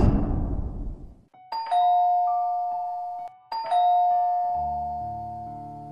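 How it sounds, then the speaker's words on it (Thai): A doorbell rings twice, each a clear two-tone chime that rings out and decays, with a brief pause between them and nothing else around. "เขากดกริ่งสองครั้งทว่าไม่มีเสียงตอบกลับมา"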